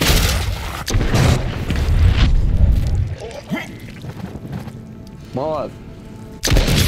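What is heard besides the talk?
fireworks exploding in video game Dead Island 2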